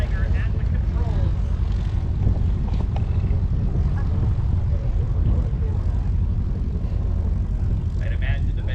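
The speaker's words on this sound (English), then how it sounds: "Here's the Badlands Traveler with Keith Geiger at the controls." Badlands Traveler STOL aircraft flying the pattern at a STOL competition in Gainesville, Texas, a steady low propeller and engine drone with wind rumble throughout, heard from outdoors under a voice talking.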